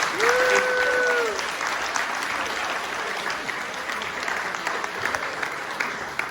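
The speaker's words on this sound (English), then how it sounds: "Can we give a round of applause?" An audience at a live performance about mental health and suicide breaks into sustained applause, a dense wash of clapping that holds steady throughout, with a brief voice at the start.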